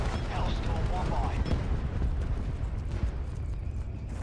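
Hellstorm missile strikes in Black Ops 4 land as a dense, continuous rumble of explosions and gunfire, loud and sustained throughout.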